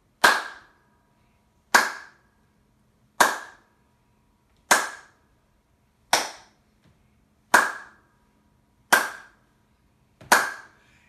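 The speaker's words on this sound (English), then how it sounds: "I'm capturing some air between the palms of my hands, and that's what creates that sound." Cupped hand claps with air trapped between the palms, eight sharp, hollow pops spaced evenly about one and a half seconds apart, each decaying quickly into silence.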